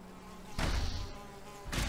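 A mosquito buzzing in Valheim, a brief droning insect whine that swells in two short bursts over a quiet game backdrop.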